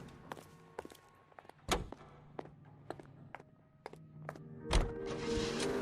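A car door opens and shuts in the L.A. Noire video game, heard as several sharp thunks and clunks scattered across the moment, with a louder slam near the end and a soft rushing noise afterward.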